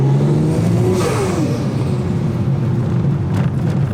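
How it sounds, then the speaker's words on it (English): A Mazda RX8 with a swapped 1JZGTE VVTI engine and big turbo roars loudly as it accelerates hard, engine pitch rising with a whirring turbo whine and a brief hiss of air near the end. "Ready for some turbo noise?"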